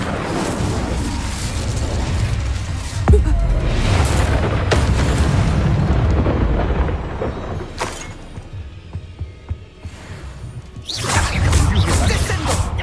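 Incendio fire spell cast in Hogwarts Legacy, loud whooshing bursts and booms that flare repeatedly, fade into a quieter stretch with small pops, then swell again near the end.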